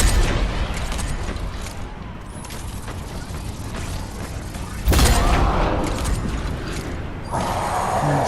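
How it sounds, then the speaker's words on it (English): Third Rail sniper rifle firing in Fortnite Save the World, with two heavy, booming shots a few seconds apart over steady mechanical game noise and clicking. "taking way too many shots just to kill a smasher"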